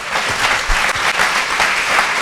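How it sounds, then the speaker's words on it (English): A live audience claps in dense, sustained applause that is loud and close, with no talk over it. "How about a round of applause?"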